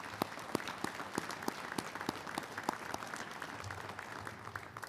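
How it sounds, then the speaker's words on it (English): An audience at the Ottawa High School Hall of Fame induction ceremony claps steadily with dense, even applause and no voices. "in groups a round of applause."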